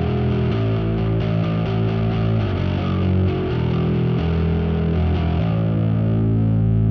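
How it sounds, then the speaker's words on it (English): Loud, heavily distorted Squier Jaguar bass through a Pod Go, playing a sustained, grinding riff with shifting low notes, thick and continuous throughout. "we go crazy on the distortion that is super popular in I guess worship music these days"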